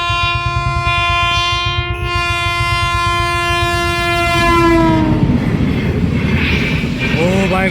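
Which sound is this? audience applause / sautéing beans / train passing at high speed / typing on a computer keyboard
train passing at high speed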